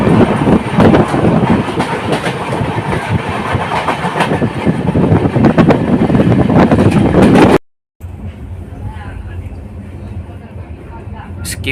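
Sharsha Humsafar Express rolling non-stop through a station, a loud steady roar of wheels and rail clatter with a sudden brief cut, then quieter running noise afterward.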